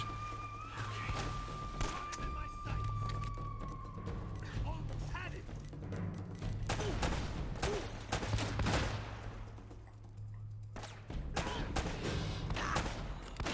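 Video game gunshots ring out in repeated sharp bursts and volleys, loud and close, with a voice talking over parts of the shooting.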